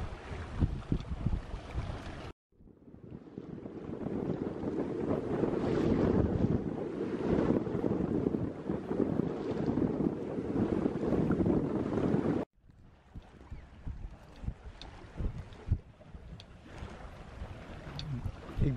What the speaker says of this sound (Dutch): De wind is inmiddels aangetrokken tot 3.